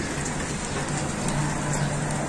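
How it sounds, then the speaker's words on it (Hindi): Light rain falls steadily outdoors, a soft continuous patter with a faint low hum beneath it. "इस वक्त हल्की हल्की बारिश हो रही है।"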